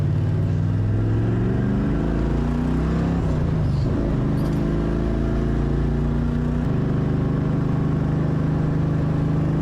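A car engine holding a strong, steady drone while driving, with rising and falling revs and gear shifts, loud and close, sometimes linked to big-block V8s with side pipes.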